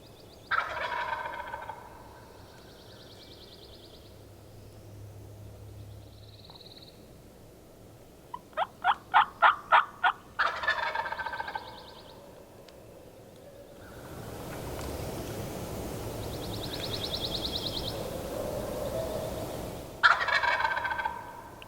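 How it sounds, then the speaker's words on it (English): A wild turkey gobbles at a distance on public land in the morning, a rapid rattling burst standing out mid-clip, with scattered fainter calls before and after and no talk. "There's hunters off in the distance trying to make him gobble"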